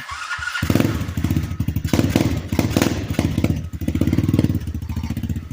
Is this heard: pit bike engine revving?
yes